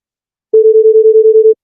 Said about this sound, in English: the square has a sort of buzzing noise to it